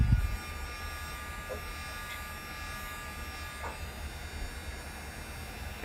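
A heat tool for card making warming up gives a quiet, steady electric whir with a thin buzzing hum, constant and unbroken, with no voices over it.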